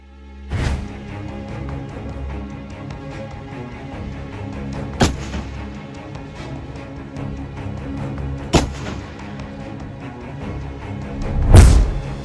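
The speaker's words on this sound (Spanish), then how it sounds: "Se trata de un rifle antimaterial de acción a cerrojo de un solo disparo, fabricado por la empresa ucraniana Mayak." A Ukrainian-made Mayak Horizon Lord single-shot bolt-action anti-materiel rifle fires four heavy, booming shots spaced several seconds apart, each a sharp blast with a rolling tail, the last one the loudest.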